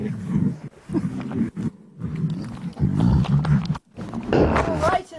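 Lions roar and growl in repeated throaty bursts at close range, loud and rough, with short gaps between, while a person talks over them.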